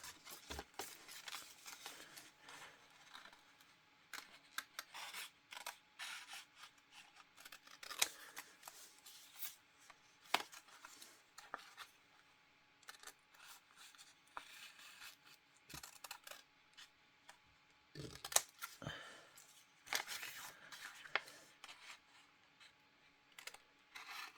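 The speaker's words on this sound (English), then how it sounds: "you can cut along with your craft knife" Craft knife cutting paper or card along lines, a long series of short, faint scratchy strokes and taps in irregular bursts, close up and quiet with no voices.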